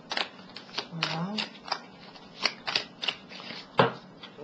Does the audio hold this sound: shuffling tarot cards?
yes